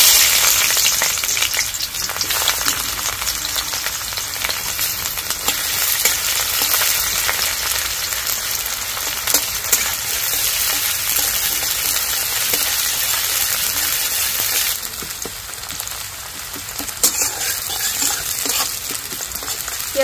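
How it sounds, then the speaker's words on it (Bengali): Onions fry in hot oil with cumin and dried red chilli tempering, giving a steady, loud, continuous sizzle with faint stirring scrapes and no talking. "পেঁয়াজটা একটু ভালো করে ভেজে নেব।"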